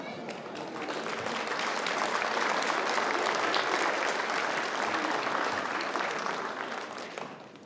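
Audience applause at a December 2019 graduate commencement ceremony for the graduates' friends and sweethearts, a sustained, dense wash of many hands clapping that swells in and fades slightly toward the end, with no talk over it.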